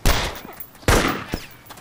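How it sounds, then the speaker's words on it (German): Gunshots ring out in the video game DayZ, two sharp, loud reports about a second apart, each followed by a short decaying tail, with a fainter click between them. "Den Zombie habe ich nur einmal abgeballert."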